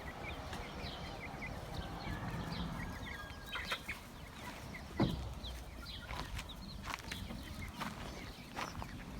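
Denizli chickens cluck and chatter in a farmyard, scattered soft calls over low background noise, with one louder squawk near the middle.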